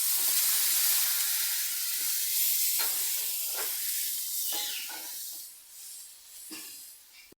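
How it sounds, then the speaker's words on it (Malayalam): Ginger curry made with curry leaves and water boils in a pan, a loud, steady hiss and sizzle close up with scattered bubbling pops that ease off slightly toward the end. "കണ്ടോ, നമ്മുടെ ഇഞ്ചിക്കറി ഇങ്ങനെ തിളച്ചുകൊണ്ടിരിക്കുവാണ്"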